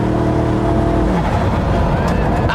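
Koenigsegg Regera, a V8-powered hybrid hypercar, accelerates hard with a loud, rising engine roar that climbs steadily in pitch over a couple of seconds, close and dominant.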